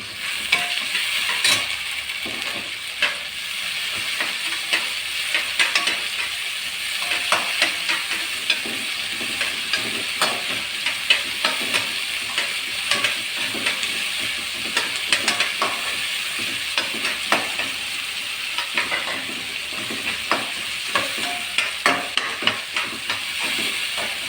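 Drumstick leaves and other sambar ingredients, salted and sautéed in a pan, give a steady sizzle broken by frequent scraping and tapping stirs, close up and continuous, with no talking.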